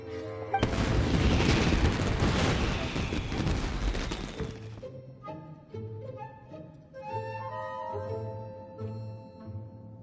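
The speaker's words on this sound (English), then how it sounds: "Yoimiya, this is turning into a bit of a fireworks display" Fireworks in Genshin Impact burst in a loud, dense crackling roar for several seconds, then give way to scattered sharp pops and booms over a quieter musical background.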